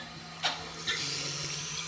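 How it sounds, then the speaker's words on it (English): Water rushes into the tank of a running toilet through an Aquasource fill valve, starting after a couple of clicks and continuing as a steady, close hiss. "I'll turn the water back on."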